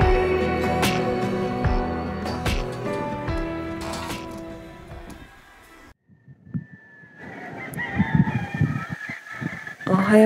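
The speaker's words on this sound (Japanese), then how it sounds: "ニワトリの声がすごいです" Roosters crowing at about 6:30 in the morning in the Bahamas, several drawn-out harmonic calls close by in the first half, then quieter scattered clucks and background noise.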